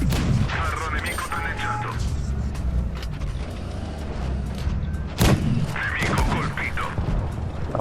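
Tank cannon shots from a Progetto 65 in World of Tanks Blitz, sharp blasts near 5.2 s over constant engine rumble and battle noise, with someone talking throughout.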